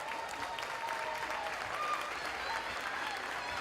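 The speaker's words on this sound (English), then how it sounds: "let's give them all a round of applause" Applause from a crowd at a youth basketball game, honoring the volunteer coaches; steady, dense clapping holds evenly for the whole stretch, with crowd noise blended in.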